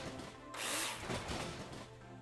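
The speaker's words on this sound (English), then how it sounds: "I was like, we have a drill." Power drill in the construction game Builder Simulator, a single burst of whirring that runs for roughly a second and a half at close range, with no talk over it.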